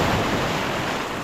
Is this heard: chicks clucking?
no